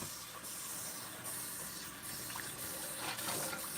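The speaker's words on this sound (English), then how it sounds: "Now, with the water running, we are ready." Tap water runs steadily indoors, a broad even hiss and splash that holds at a constant level throughout with no voices.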